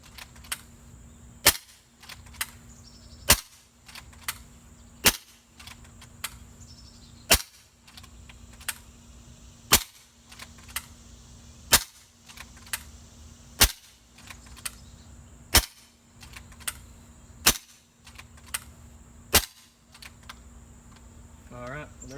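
A Kral Puncher Breaker air rifle fires a fourth magazine, sharp snapping shots at a steady pace of roughly one every two seconds, each with a quiet metallic follow-up, while a voice talks quietly in places.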